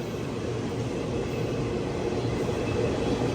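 Express sleeper train rumbling into Nileshwaram railway station in Kerala, Bhavnagar to Thiruvananthapuram North service: a steady, dense low roar of carriages on rails, constant and close throughout without any talk.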